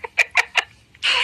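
A person's voice imitates a chicken or turkey gobbling: three quick, close clucking bursts, then a short pause and a longer harsh, breathy squawk.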